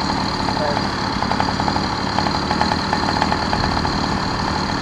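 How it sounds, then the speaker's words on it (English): A small motor made for bicycles runs steadily at close range with a buzzing, rapid putter, while people talk over it. "It's a bike motor. It's a bike it's motor. It's made specifically for bikes."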